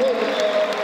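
Arena crowd at an Obradoiro basketball game applauding in a steady ovation as a player heads to the bench, a dense continuous wash of clapping and cheering with a faint tone running through it.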